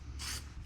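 A spray paint can hisses in two short bursts onto SLP intake runner parts being restored, close and soft, with a steady hum behind it.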